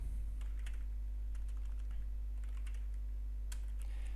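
Keys tapped on a computer keyboard in short irregular bursts, close and fairly quiet over a steady low electrical hum, as code is entered for a new object.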